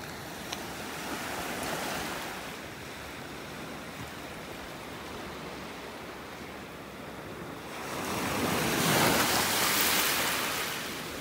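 Ocean surf rolling onto a North Naples, Florida beach as the tide comes in, a steady broadband wash of breaking waves with a louder surge swelling near the end, no voices.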